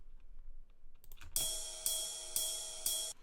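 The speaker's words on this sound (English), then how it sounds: "and a jazz ride, which sounds like this" Jazz ride cymbal in an electronic drum arrangement, shimmering bright washes struck in a steady pulse about every half second, each ringing out and sustaining, fairly quiet and alone.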